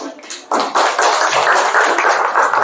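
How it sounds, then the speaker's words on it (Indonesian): Classroom applause from students after a group presentation in a teacher-training session: a dense patter of hand claps that swells abruptly and holds steady, fairly close and loud. "Kasih tepuk tangan."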